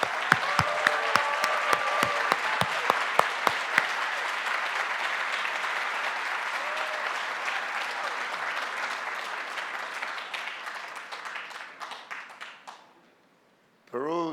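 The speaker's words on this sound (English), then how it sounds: "So please help me giving Tony a big hand of applause." Audience applause at the APEC CEO Summit, a closing-address session in 2015: dense sustained clapping from a large crowd, close and loud, with a few sharp claps early, tapering off near the end before a brief restart.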